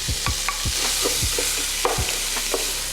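Potatoes tipped into a hot pan for breakfast burritos sizzle steadily while a utensil scrapes and stirs them in a loose rhythm of knocks, close and fairly loud, with no talking.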